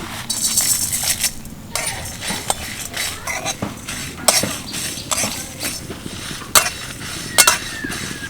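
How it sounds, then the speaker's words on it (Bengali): Whole coriander, cumin, panch phoron and fenugreek are dry-roasted in a kadai and stirred with a metal spoon, giving repeated scrapes and sharp clinks at an uneven rhythm, close by and without talk. "এগুলোকে একসাথে কড়াইতে দিয়ে ভেজে নেব"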